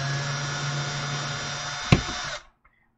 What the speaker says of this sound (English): I'm just gonna use the drill and just yank these suckers out.